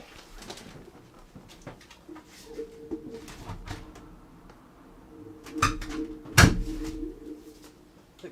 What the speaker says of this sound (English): I think there's some birds that have landed on the roof, because I'm on a bay window.